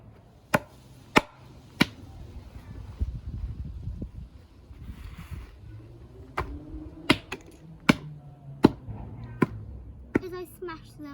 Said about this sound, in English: so let's try the mallet